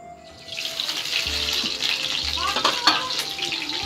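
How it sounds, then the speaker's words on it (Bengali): Tap water runs into a kitchen sink while raw chicken is rinsed and handled under the stream, a steady close splashing with brief bumps and clatter from the meat and bowl. "তো চলো চিকেনটা ভালো করে ধুয়ে নিই"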